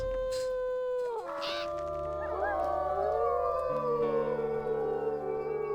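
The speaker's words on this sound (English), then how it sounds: "This hex was at 73, so we'll go ahead and howl at that" Wolf howls from the WolfQuest video game rise and glide in long sustained tones, overlapping into a layered chorus of several voices against a steady low background.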